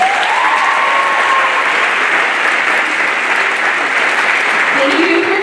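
A school back-to-school kickoff audience applauds steadily and loudly, a dense wash of clapping from the crowd that holds without letup, with faint voices mixed in.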